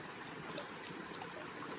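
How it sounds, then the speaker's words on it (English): A small coastal stream in Oregon flows in a quiet, faint, continuous trickle with soft splashing and no other sounds over it. "I found this little stream here"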